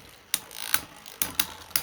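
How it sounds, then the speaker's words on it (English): 3D printer running close by, giving a run of sharp mechanical clicks and ratcheting ticks at irregular intervals over a quiet background. "Also, I'm sure you can hear the printer going in the background."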